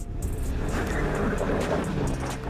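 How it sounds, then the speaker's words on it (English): A 2022 Chevrolet Equinox SUV engine revs high under hard acceleration, giving a steady, loud, close-up drone with no voices. "Now, we will accelerate a bit more, and we will keep the revs longer."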